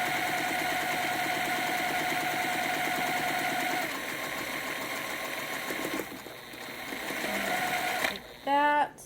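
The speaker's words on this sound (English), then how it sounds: "And sew straight down this line once again." Close sewing machine running a straight seam on half square triangle fabric, a continuous rapid stitching hum that slows and fades toward the end, followed by brief rustling and a short high squeak.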